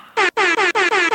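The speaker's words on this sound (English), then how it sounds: "That was the laziest air horn." An air horn blares in five quick, loud honks with brief gaps between them, a bright blaring tone heard alone.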